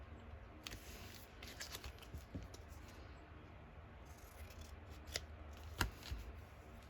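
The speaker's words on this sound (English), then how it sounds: "I'm just going to trim off that on that side" Scissors trimming paper for a junk journal, a run of quiet crisp snips and paper rustles close by, one louder cut near the end, no voices.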